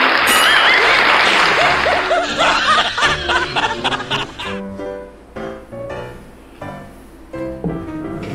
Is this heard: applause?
yes